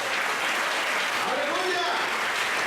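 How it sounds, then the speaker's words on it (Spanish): Congregation applause during a church sermon, loud and steady throughout, with shouting voices mixed into the clapping. "Fuerte ese aplauso para él."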